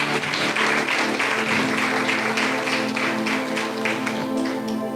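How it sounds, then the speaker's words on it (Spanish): A church congregation claps together in applause, a loud, dense, sustained spatter of hands, with a faint voice and some background tones beneath. "Un aplauso al Señor"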